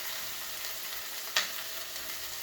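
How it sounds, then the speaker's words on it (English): Onions and aromatics sauteing in a pan for braised lamb shank, a steady broadband sizzle running throughout at moderate level, with one brief sharper crackle or stir clink partway through. "By starting to saute with those aromatics in there, it's going to really bring out the flavor a bit more."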